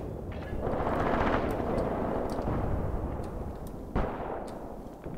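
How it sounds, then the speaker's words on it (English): Panzer II tank firing in the game Graviteam Tactics, a loud continuous roar of gunfire and rumbling battle noise with a sharp report near the end. "Panzer II is now successfully engaging."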